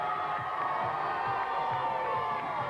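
A crowd at a 1985 BMX competition cheers and shouts in a continuous loud roar, voices blending into a dense hum with some higher whoops rising out of it.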